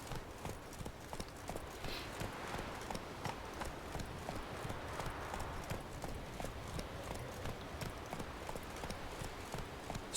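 Roach the horse trots in The Witcher 3, hooves clip-clopping in a steady, continuous rhythm at moderate loudness throughout, with a faint bed of game ambience underneath.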